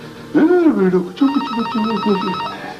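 A telephone rings in an office with a trilling electronic ring that starts after someone speaks and keeps going under his voice.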